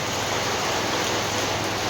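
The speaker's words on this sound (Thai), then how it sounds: "ฝนตกหนักเลยพี่น้องมาอีกรอบสองเนาะ" Heavy rain pours down steadily, a dense, even hiss with no break or voices.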